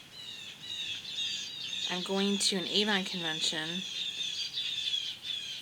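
Birds squawking loudly outdoors on a patio, harsh repeated calls over a steady high chirping chorus, with someone talking through the middle of it.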